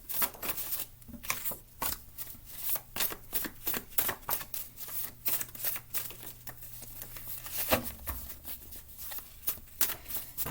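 A deck of tarot-style cards being shuffled during a reading, a steady run of close riffling and flicking bursts with brief pauses, mostly alone with no talk.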